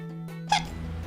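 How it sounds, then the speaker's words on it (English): A single short hiccup bursts out abruptly from a person, brief and fairly close, standing out against a quiet background hum. "Hiccup."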